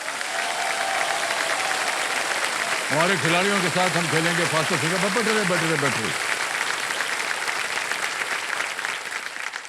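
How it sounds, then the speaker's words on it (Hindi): A quiz-show studio audience applauds continuously, a thick wash of clapping under someone talking in the middle stretch. "तालियां बज जाए।"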